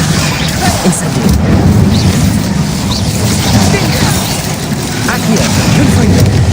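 Incendio fire spells cast in Hogwarts Legacy, dull booms and whooshing bursts over continuous rumbling battle noise, with voices talking throughout.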